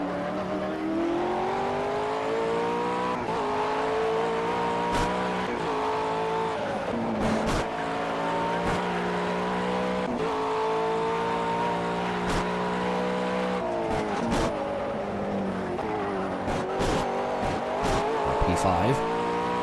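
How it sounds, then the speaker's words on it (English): Race cars in the Project CARS video game pull out of the pits during a 12-hour endurance race, several engines droning and shifting through gears with occasional tire squeal, steady and loud throughout. "Cars out of the pits."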